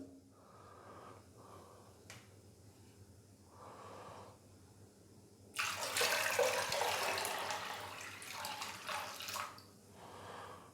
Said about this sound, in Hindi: तो अभी इसके अंदर मैं 2 लीटर पानी और डालूंगा